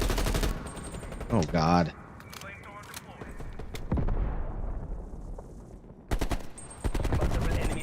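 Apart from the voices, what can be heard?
sentry turret gunfire in video game Maneater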